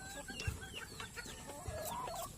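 Rhode Island Red chickens in a backyard coop, netted in, give several soft clucks and short calls at close range over a steady background hum, with a couple of low thumps.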